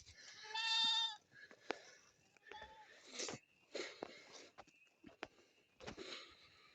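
Goats in a farm yard bleat loudly, one long wavering call up close followed by a string of shorter bleats and snorts, with rustling and movement sounds between them.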